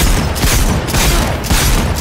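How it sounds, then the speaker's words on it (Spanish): Rapid volley of loud shotgun blasts in the video game Cyberpunk 2077, several booming shots in quick succession filling the clip, with no talk over them. "Comete las tiros de escopeta"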